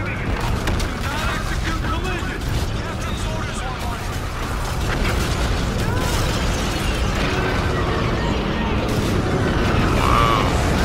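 Explosions rip through a space battle in a video game as ships are destroyed, dense booming bursts and mechanical clatter layered continuously under voices talking throughout.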